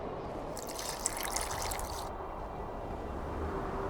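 A splash of water poured into a dye mixture in The Witcher 2, a brief bright trickle over a steady low ambient bed, with no voices.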